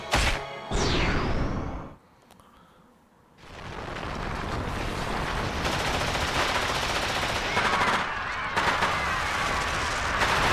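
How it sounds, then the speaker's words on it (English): Heavy gunfire erupts in the video game Fate/Grand Order, sustained rapid bursts that briefly drop to a low rumble before resuming loud and dense. "I hear gunfire."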